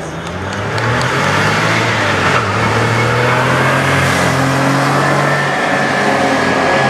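A 1975 Porsche 911 Carrera race car accelerates hard at a historic hillclimb event, its engine note loud, close and rising steadily through the gears.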